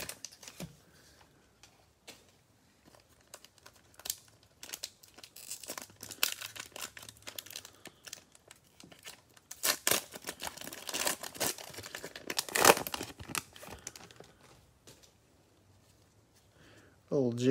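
Foil packs of Mosaic football trading cards are torn and crinkled open close up, scattered rustling and sharp ripping bursts building to louder tearing in the middle, with a voice talking at points.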